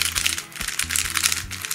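A MoYu RS3M 3x3 Rubik's cube is turned rapidly by hand, a close, continuous run of light plastic clicks and rattling layer snaps.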